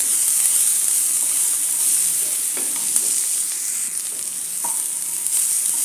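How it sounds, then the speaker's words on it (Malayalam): Sliced onions fry with salt in a pan, producing a close, even sizzle with a bright hiss and occasional small stirring taps throughout, without any voices. "സവാള ചെറുതായി മൂത്ത് വരുന്നുണ്ട്"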